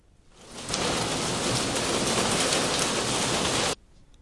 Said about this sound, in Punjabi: ਕਈ ਥਾਈਂ ਮੀਂਹ ਪੈ ਰਿਹਾ ਹੈ ਤੇ ਗੜੇਮਾਰੀ ਵੀ ਹੋ ਰਹੀ ਹੈ